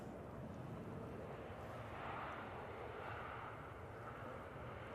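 An EasyJet airliner landing at Manchester Airport, a steady, broad jet roar held at an even level, heard from a distance outdoors with no voices.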